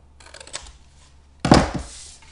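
Cutting paper for a handmade gift box: two short, close, crisp bursts of scissor or trimmer cuts separated by a pause, the second louder and longer.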